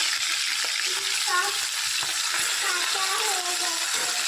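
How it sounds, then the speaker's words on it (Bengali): Fish coated in salt and turmeric fries in hot oil, a steady close sizzle running throughout with a few faint kitchen clinks and no talk over it. "দেখো মাছটাকে একটু করে লাল লাল করে ভেজে নেব"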